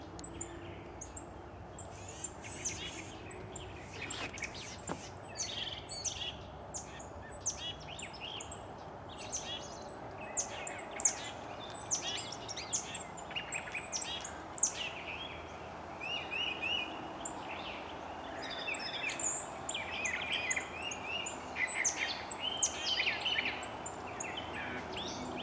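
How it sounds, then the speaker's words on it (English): Several birds chirp and tweet repeatedly outdoors in a place hung with Spanish moss, bright calls scattered throughout over a steady low ambient hum, with no talking. "There's some other birds up here"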